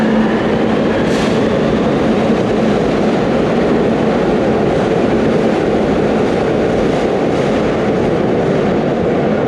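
Riding a Barcelona metro train, a loud, continuous rumble and roar of the carriage on the rails, with steady broadband noise and faint rattling throughout.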